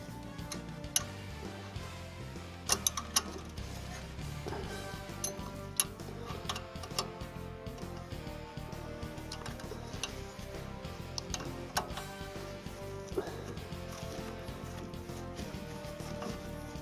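An Allen key turning a brake caliper bolt on a SEAT Ibiza, a run of small ticking clicks and ratcheting metal taps in a quiet garage, near and fairly faint, with no talk.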